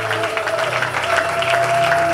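A church congregation claps for the Lord during a service, a dense, steady wash of applause over about two seconds, with a sustained musical tone humming underneath.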